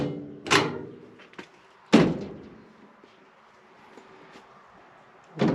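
A large door above the fuel tank on an International 280A backhoe is worked, giving several sharp metallic thunks with quiet gaps between them, near and loud, with no talk.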